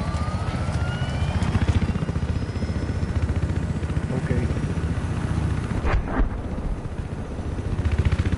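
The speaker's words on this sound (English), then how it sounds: "Oh, I have to get on my helicopter." Helicopter engine and rotor drone in a first-person shooter game, a constant loud mechanical roar throughout with faint game sounds mixed in.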